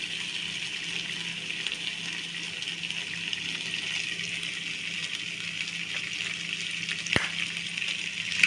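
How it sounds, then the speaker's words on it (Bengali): A mixture for egg chops fries in a pan while being stirred, a continuous close sizzle with light scraping, broken near the end by a single sharp metallic clank. "এটাকে ভালো করে নাড়িয়ে নেবো আমি"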